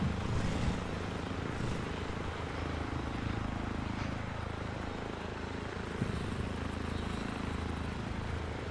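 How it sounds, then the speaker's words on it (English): A helicopter in the video game ARMA 3 produces a constant loud rotor and engine roar that fills the whole stretch with steady, dense noise and no pauses. "Land the chopper."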